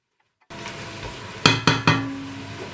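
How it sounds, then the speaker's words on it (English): Meat goes into a cooking pot of spinach soup, opening with a soft rustle followed by three sharp metallic clanks against the pot and a faint sizzle, close and without talk. "Then I will add the meat."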